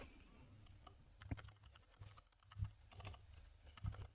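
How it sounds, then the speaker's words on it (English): Quick bursts of typing on a computer keyboard, the clicks coming in short uneven clusters with brief pauses between, close and fairly quiet, with no voice over them. "Now let me type in HP Elite Desk"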